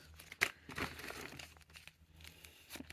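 Stickers handled inside a plastic bag, faint close crinkling and rustling with a sharper crackle near the start, quiet throughout.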